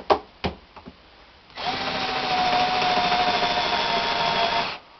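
A Milwaukee M12 cordless drill starts after a few short taps and bites steadily through a 2x3 piece of wood, a loud continuous whir with a faint whine running for about three seconds.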